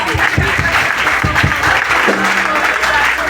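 A church congregation claps in uneven bursts, nearby and fairly loud, with rhythmic hand claps fading into a sustained tone and voices underneath.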